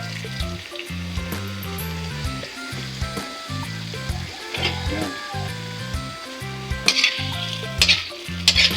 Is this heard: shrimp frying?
yes